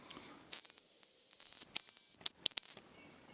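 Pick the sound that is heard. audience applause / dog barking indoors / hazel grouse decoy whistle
hazel grouse decoy whistle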